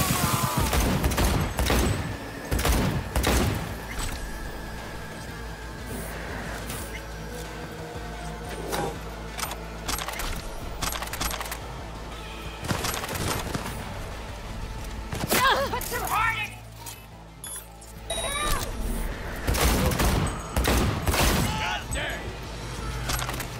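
Cyberpunk 2077 smart weapon gunfire comes in loud, repeated bursts with crashing impacts, spaced over a long stretch, while a person talks in between the volleys.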